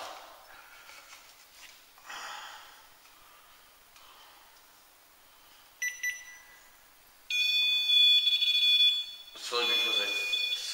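A REM pod ghost-hunting device sounds a shrill electronic alarm in bursts during a ghost hunt in a community room, loud and close, with quiet talking and rustling beforehand.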